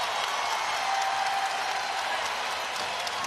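Basketball crowd at Maples Pavilion during a Stanford versus Iowa State women's game, a loud, sustained roar of cheering and clapping from a packed arena, steady throughout.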